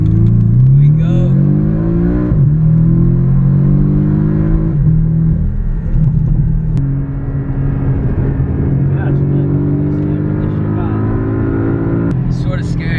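Ferrari sports car, an 812 Superfast or F12 Berlinetta, with a loud, close engine and exhaust roar that rises and falls as it accelerates steadily through gears, heard from the cabin for the whole stretch.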